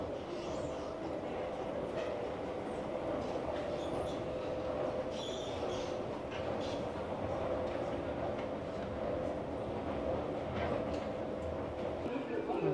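Steady low rumble of a train in an Istanbul metro station, a continuous roar with faint indistinct voices in the background.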